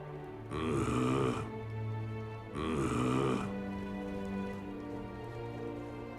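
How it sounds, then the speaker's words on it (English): Two loud, rasping snores from a character in the video game Mass Effect 3 Legendary Edition, each about a second long and spaced apart, with a soft low drone between and after them. "Hope I didn't wake anyone up with my snoring"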